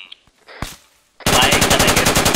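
Machine gun fire in the military shooter Arma 3 erupts after a few faint clicks and thuds, a loud, rapid, evenly spaced burst of automatic shots sustained to the end.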